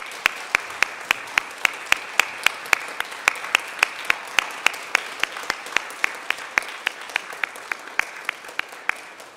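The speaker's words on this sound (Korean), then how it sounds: "성경 봉독자들이 자리로 들어갈 때까지 우리 함께 박수로 축복하겠습니다." Steady rhythmic clapping in a church service, sharp evenly spaced claps repeating for several seconds at moderate level, like a small congregation clapping together in time, with no talk over it.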